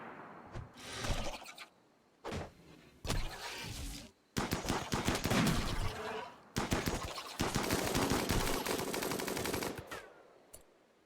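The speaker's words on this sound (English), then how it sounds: "Okay, Mole, you can immediately start shooting." Gunfire from colonists fighting an insect infestation in the colony sim Rimworld, with several separated bursts of rapid automatic shots, the later ones longer and sustained.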